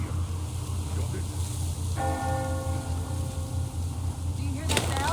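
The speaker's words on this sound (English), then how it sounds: "Do you hear that bell?" A bell in the Metro video game rings out with one clear strike partway through, its metallic tone lingering and slowly fading over a steady low mechanical rumble and ambient noise.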